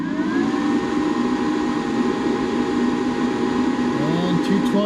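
A YesWelder CUT-65DS plasma cutter, plugged into a 220 outlet, switches on with a steady whirring fan hum and faint tonal whine. Nearby a voice talks over it.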